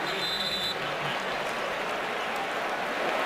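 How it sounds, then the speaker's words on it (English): Stadium applause for the punter at a Cowboys at Packers NFL game, a moderate, steady wash of crowd clapping that carries evenly through the moment. "Jacob Shum getting a rare round of applause."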